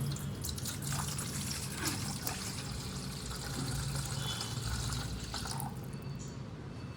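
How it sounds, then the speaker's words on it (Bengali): Water is poured into a bowl as the first step of making fuchka water, a steady close splashing stream that runs for several seconds with no talking. "সবার প্রথমে দিয়ে দিচ্ছি জল"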